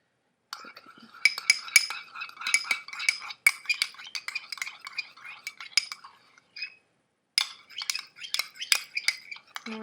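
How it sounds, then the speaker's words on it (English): A utensil stirring a tint mixture inside a glass jar, producing bursts of quick clinks and scraping taps against the glass, close and fairly quiet, with a short pause before the stirring resumes. "We're just stirring"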